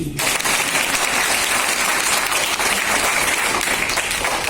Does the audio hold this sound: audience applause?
yes